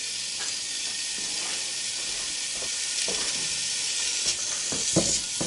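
Half a pound of chopped bacon sizzles loudly in a hot pan over medium heat, a steady close hiss broken by occasional pops and stirring scrapes.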